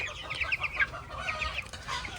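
Several 21-day-old chickens cluck and chatter close by, short overlapping calls repeating over a low background rumble.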